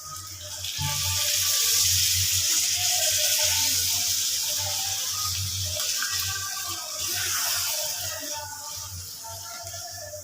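Water pours steadily into a pot of braised mutton curry, a continuous close gushing splash that swells and eases over several seconds with no talk.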